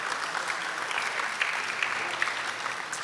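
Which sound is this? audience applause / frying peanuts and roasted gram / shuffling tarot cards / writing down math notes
audience applause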